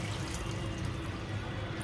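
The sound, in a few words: washing chopped ginger and garlic with water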